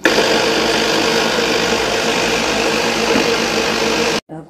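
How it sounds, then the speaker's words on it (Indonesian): A kitchen blender runs loud and steady with a dense whirring roar that holds unchanged for about four seconds, then cuts off abruptly, followed by a short faint tail of noise. "Agora o blender lá."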